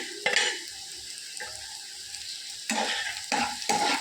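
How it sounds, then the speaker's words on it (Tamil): Small-cut potatoes and onions frying in oil in a pan, with a steady soft sizzle broken by a few scraping stirs of a spoon against the pan, close and clear with no talking. "இப்போ சின்னதாக வெட்டி வச்சுருக்கிற உருளைக்கிழங்கு சேர்த்துடலாம். வெங்காயம் நல்லா வதங்கணும்."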